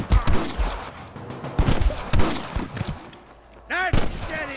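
Gunfire crackles in a Red Dead Redemption shootout with snipers, several sharp shots scattered across the moment, with game voices and a rising shout near the end.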